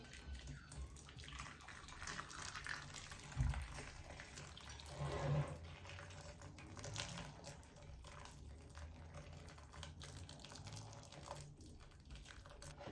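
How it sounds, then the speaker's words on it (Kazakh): Boiling water pours steadily with a soft splashing rush, a brief louder gush partway through, then continuing as a quieter, even stream. "Енді осының үстіне кипяток құямыз."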